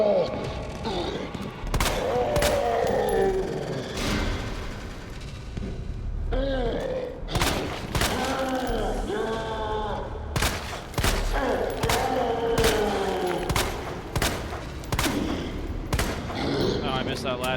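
Gunshots in the Resident Evil 2 survival horror game ring out as loud, spaced single reports with echoing tails, over a tense ambient score and occasional low groans.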